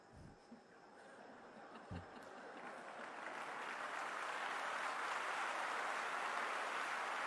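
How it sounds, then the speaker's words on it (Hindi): An audience at a talk claps, starting from a few scattered early claps and building after a couple of seconds into steady, broad applause that sustains to the end, fairly distant and soft. "आपने किसके लिए ताली बजाई?"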